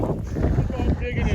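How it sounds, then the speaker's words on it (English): Heavy wind buffets the microphone in low rumbling gusts at the Hauser Geode Beds dig site, with a voice faintly present underneath. "Very windy. Sorry about the wind."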